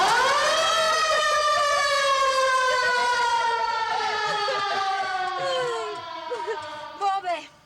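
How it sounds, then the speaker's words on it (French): A loud wailing fire truck siren holds a long, slowly falling tone, then winds down as other sounds come in near the end; from a 1978 television episode. "Mes clignotants et ma sirène."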